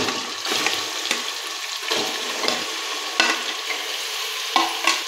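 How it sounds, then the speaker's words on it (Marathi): Marinated mutton frying in oil in a pan on a high flame, a loud continuous sizzle and hiss with periodic scraping stirs, close up and without speech. "हाय फ्लेमवरती हे मटण आहे ते चांगलं या तेलामध्ये परतून घ्यायचं आहे"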